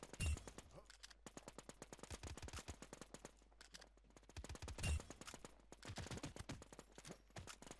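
Rapid bursts of automatic gunfire in a video game, dense crackling volleys with a few heavier thumps, faint and steady over nearly eight seconds.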